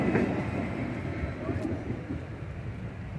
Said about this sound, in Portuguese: E a saída, o trenzão indo embora